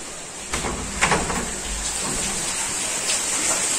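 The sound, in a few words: heavy continuous rain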